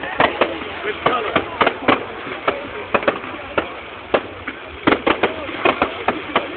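Bonfire Night fireworks crackle and bang in rapid, irregular bursts, close and loud, while people talk over them.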